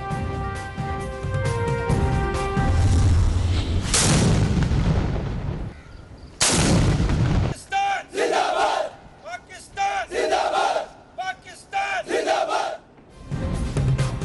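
Artillery fires a 21-gun salute on Pakistan's Independence Day in provincial capitals: heavy booming blasts cut in loudly after a stretch of music, followed by rhythmic crowd chanting in bursts.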